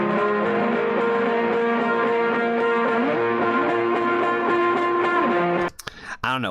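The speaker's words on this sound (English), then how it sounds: "Whatever kind of distortion pedal they got using on that shit is sounding fucking sick for this." An electric guitar runs through a distortion pedal in a rock performance by women, its thick sustained chords ringing continuously and loudly before cutting off abruptly near the end.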